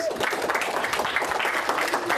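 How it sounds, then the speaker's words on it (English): A classroom gives a big round of applause to a teacher honored as Teacher of the Week, with dense, steady clapping filling the whole moment. "Give her a big round of applause"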